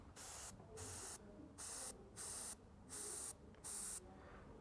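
An airbrush sprays paint onto a scale model in a steady run of about seven short, evenly spaced hissing bursts with quiet gaps between them, close and loud with no talking.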